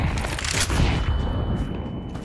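Rapid gunfire in the online shooter Counter-Strike 2, a loud, dense burst of overlapping shots and booms packed closely together, continuous throughout the short stretch with no pause.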